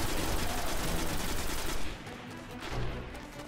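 Rapid automatic gunfire in the shooter video game Destiny, a dense loud burst of shots for nearly two seconds, then a pause and a shorter, quieter volley, with no talk.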